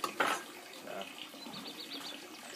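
Lukewarm water runs from a tap to dissolve yeast for an elephant toothpaste experiment, a faint steady hiss with soft splashes and a brief louder gush at the start, fairly quiet throughout.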